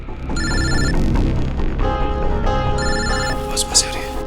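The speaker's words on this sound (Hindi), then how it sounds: "सर, फोन उठाइए।" A telephone rings in repeated electronic bursts with short pauses between them, while a voice speaks and tense drama music plays underneath.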